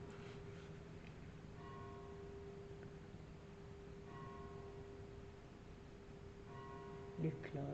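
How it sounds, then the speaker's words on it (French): Church bells ringing in faint, repeated bursts spread across the stretch, each peal set against a steady hum and a quiet, noisy background. "Les cloches."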